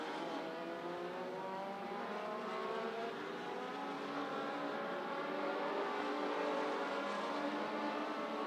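Legends race cars circle a track at night one of the Spring Nationals feature, a continuous layered engine drone that stays steady and fairly distant throughout.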